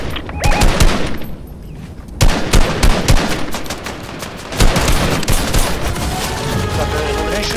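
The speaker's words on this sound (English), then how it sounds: "Oh, they might be shooting each other now. They are." Gunfire in the video game Fortnite, loud bursts of rapid automatic fire broken by short pauses, then sustained shooting that continues to the end.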